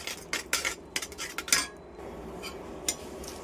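A utensil stirs masala quickly in a pan over a low flame, making a rapid run of sharp metallic clinks and scrapes, then a quieter stretch with a single late clink.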